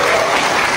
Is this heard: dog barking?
no